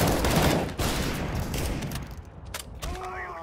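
Gunfire erupts during a Payday 2 heist as players shoot at a heavy enemy, with dense bursts of shots and clatter dominating the first seconds, then thinning into scattered shots and a brief tonal game sound near the end.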